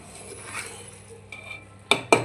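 Spiced puffed rice (churmuri) tossed with cold-pressed oil in a bowl: a quiet, soft rustle, then two sharp, close utensil clinks against the bowl near the end.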